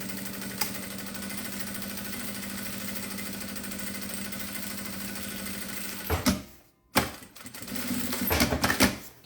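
A sewing machine runs a continuous safety seam, whirring and clattering steadily up close. It stops briefly near the end, then starts again in short bursts.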